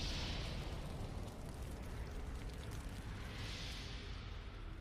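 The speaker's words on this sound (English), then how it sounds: "Even the explosions you can hear." A dense, continuous roar of rumbling blasts and booms from an anime, loud and sustained throughout, with no talking.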